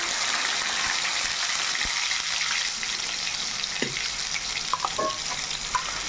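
Ginger garlic paste frying with chillies in a hot pan, a steady close sizzle and crackle throughout, with a few faint clinks and stirring scrapes near the end.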